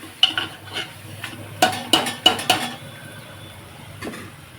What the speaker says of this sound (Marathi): खोबरं आणि डाळीची पिठली झाली त्याच्यामध्ये टाकून दिली आपण हे मिक्स करून घेऊया चांगलं